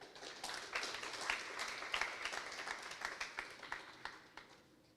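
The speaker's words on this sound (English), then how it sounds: "Now, with a big round of applause, let us welcome Dr. Baskaran to the stage to deliver the TNtalk." An audience at a live TNtalk event gives a round of applause welcoming a speaker to the stage: continuous, fairly faint crowd clapping heard from a distance.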